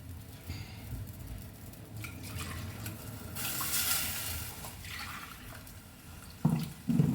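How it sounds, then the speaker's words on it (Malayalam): Water is poured into a pan with sizzling mustard seeds and dried red chilli, a soft continuous splashing rush over faint frying hiss, ending in a couple of louder close clanks, no talking. "ആവശ്യമുള്ള വെള്ളം ഒഴിക്കുക."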